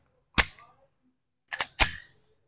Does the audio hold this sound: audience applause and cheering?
no